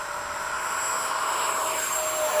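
An E-flite 80mm F/A-18D electric ducted-fan RC jet flying after sunset at an RC field, a steady loud whooshing fan roar with a thin high whine, continuous and fairly close.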